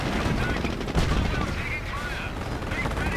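Tank guns and small-arms fire crackle in a Company of Heroes battle, a busy layer of rapid shots and booms under a commentator's continuous talking.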